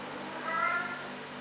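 A Maine Coon cat gives a single short, fairly faint meow over a quiet indoor room background.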